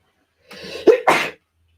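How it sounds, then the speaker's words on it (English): A single sharp sneeze, close and fairly loud: a short intake followed by an explosive burst, then silence. "there's that sneeze that was hanging around before"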